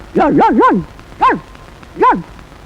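A voice imitates a dog barking: a quick run of three yelping barks, then two more single barks spaced apart, fairly loud and close.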